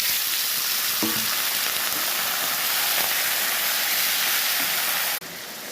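Chopped bottle gourd hits a hot oiled pan with spices and sizzles loudly and steadily, a close, dense frying hiss with faint stirring knocks, cutting off abruptly near the end.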